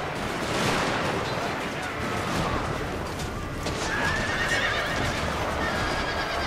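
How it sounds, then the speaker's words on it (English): On a Total War: Fall of the Samurai battlefield, a riderless horse whinnies and neighs amid clopping hooves and distant gunfire, with voices talking over the steady battle din. "Hey, a horse without his rider."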